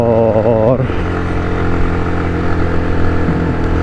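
A motorcycle climbs a steep hill road toward Gorakh Hills Station in second gear, its engine labouring in a close, steady drone after a brief voice at the start.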